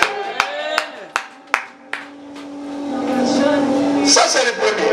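A church congregation claps during a sermon, with about six sharp, separate claps in the first two seconds, followed by rising crowd noise and cheering.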